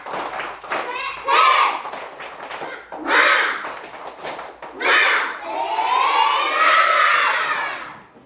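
A group of schoolchildren standing in a classroom clap and chant a rhythmic Indonesian clap song in loud, shouted bursts with short pauses between phrases, ending in a long sustained cheer.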